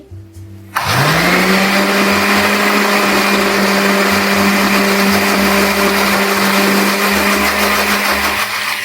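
An electric blender grinding fried onions and yogurt into a paste, starting abruptly after a short pause and then running as a loud, steady whine for the rest of the time, with no voices.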